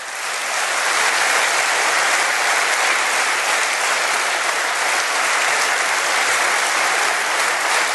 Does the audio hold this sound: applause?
yes